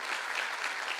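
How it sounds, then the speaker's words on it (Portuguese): An audience claps steadily and densely for a helper at the close of an artificial intelligence class, a brief even burst of applause without a break. "eu vou pedir uma salva de palmas para a Márcia"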